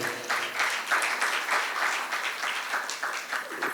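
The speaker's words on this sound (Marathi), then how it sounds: "त्या सर्वांसाठी आपण एकदा टाळ्या वाजवूया." Audience applause at a book lovers' gathering in Karad, steady and full for a few seconds, sustained clapping from a crowd with no talk over it.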